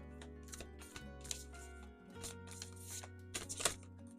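Tarot cards shuffled by hand at a desk during a card reading, giving soft, repeated riffling and slapping bursts over a steady low hum, close and quiet.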